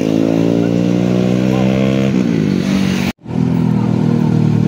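A motorcycle engine roars loudly nearby on a mountain road, its pitch gliding as it passes and shifts, with a brief cut before the drone returns strongly.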